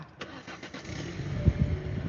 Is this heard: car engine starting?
yes